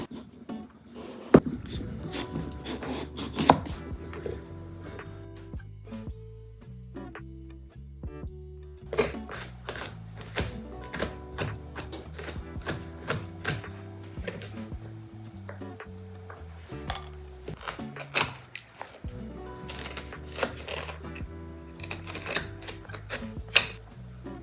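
A fresh pumpkin being cut in half with a knife and scraped clean of its guts for puree, giving irregular knocks, cuts and scraping strokes close by throughout, with no talking.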